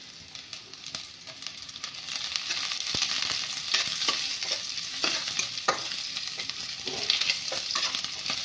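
Chopped onion, garlic and whole cumin sizzle in hot oil in a home kitchen, with a steady frying hiss and scattered clicks of a spoon stirring the pan throughout.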